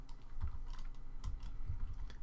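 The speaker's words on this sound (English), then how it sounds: "I'm not sure if you guys can hear my keyboard" Typing on a computer keyboard, with soft irregular key clicks and thumps tapping away continuously and fairly close, no talking over it.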